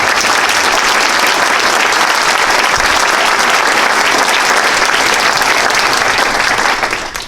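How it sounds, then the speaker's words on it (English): A large inauguration audience for a county executive applauds steadily and loudly throughout, a dense, even wash of clapping that holds at full strength before easing slightly at the very end. "please join me again in a round of applause for the tremendous service of some of you"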